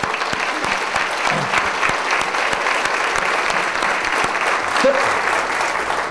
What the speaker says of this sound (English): give yourself a giant round of applause for what you have done